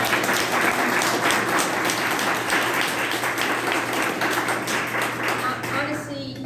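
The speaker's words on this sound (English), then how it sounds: "I don't want anybody to leave without a round of applause again for" Sustained applause at an environmental group's annual general meeting, a crowd of many people clapping steadily for several seconds with a low hum underneath, then thinning out at the end.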